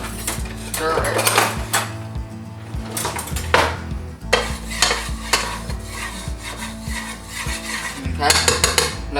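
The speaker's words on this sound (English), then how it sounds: "let's grab something to stir it" A spoon stirring turkey casserole ingredients in a metal pot, with repeated loud clanks and scrapes against the sides in an uneven rhythm, close and clear with no voices.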